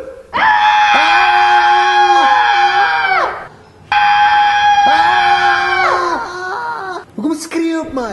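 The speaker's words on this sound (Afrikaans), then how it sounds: "Hoekom skree jy op my?" A person screams in two long, loud, sustained wails separated by a short gap, followed by a burst of shorter, choppier cries.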